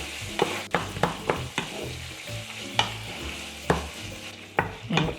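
Pancit canton noodles being stirred and tossed in a sizzling pan, with a steady frying hiss under repeated sharp scraping strokes of the utensil against the pan.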